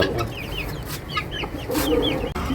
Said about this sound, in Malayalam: ഇത് ഫയോമിയാ? Original Fayoumi.